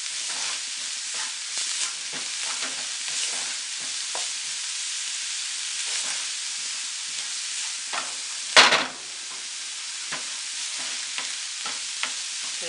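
Onion fries in a pan with bacon while it is stirred, giving a steady close sizzle with soft scraping stirs throughout and one brief louder clatter, with no talking.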